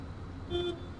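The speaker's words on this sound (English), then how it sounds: "My car just honked?" A short single car horn toot sounds in a spooky driving video game, a brief tone over a low, steady engine hum.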